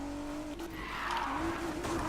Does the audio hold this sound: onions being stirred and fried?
no